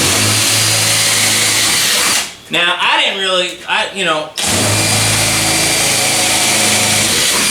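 A loud power drill bores holes in a car part during work on a Chevrolet Colorado pickup, whining steadily before and after a short pause where someone speaks.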